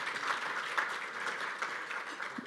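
Group applause at an online Zoom celebration for a business accelerator event, a steady, even patter of clapping held for the whole stretch at moderate level with no voices over it.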